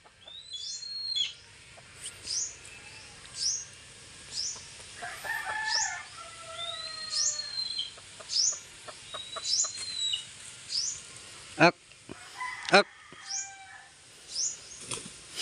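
Rhode Island chickens outdoors, with repeated short calls and clucks scattered through the whole stretch, a few sharper crowing-type cries standing out, moderately near, with no talking.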